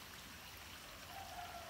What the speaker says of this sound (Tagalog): Sapa na diya.